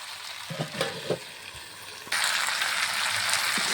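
Fried potatoes and meat sauté in a pan for a spiced curry, a few soft stirring scrapes, then a sudden louder, steady sizzle that carries on to the end.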